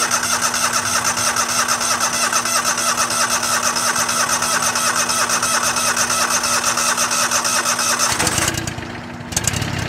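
An old Go-For digger found at an estate sale, its small engine cranking and then running with a loud, steady mechanical drone that drops off sharply near the end.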